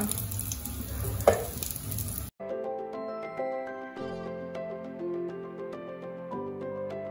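Garlic frying in a pan with oil and a splash of olive oil, a close, steady sizzle for about two seconds before it cuts off abruptly.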